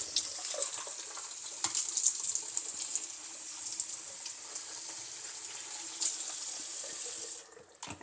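Tap water runs steadily to rinse a freshly potted plant cutting, a close, continuous splashing stream that cuts off near the end.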